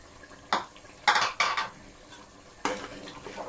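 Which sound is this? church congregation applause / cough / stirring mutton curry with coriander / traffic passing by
stirring mutton curry with coriander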